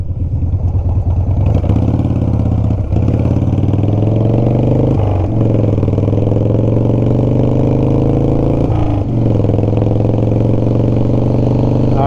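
A Harley-Davidson FXR motorcycle engine idles with a steady low rumble, stumbling briefly a few times from a carburetor needing adjustment before settling back into its uneven chug.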